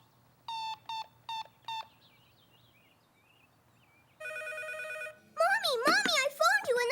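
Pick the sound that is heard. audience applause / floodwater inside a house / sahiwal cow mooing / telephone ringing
telephone ringing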